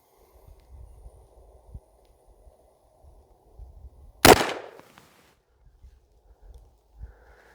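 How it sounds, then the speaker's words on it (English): A single sharp, loud gunshot from a Remington 1858 black-powder revolver cracks once in a quiet outdoor setting, with a short decaying echo and faint handling sounds around it. "shoot them with the Remington 1858 revolver"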